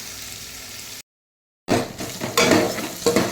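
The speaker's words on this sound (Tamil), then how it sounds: "காலிஃப்ளவர் நல்லா வதங்கட்டும். காலிஃப்ளவரை வந்து பருப்போடு போட்டோம்னா அப்படியே கொலன்னு போயிடும். அதனால் வந்து இப்படி நல்லா வதக்கிக்கிறேங்க." Cauliflower sautéing and being stirred in a pan gives a steady close sizzle with scraping stirs, broken by a short silent gap before the frying resumes louder.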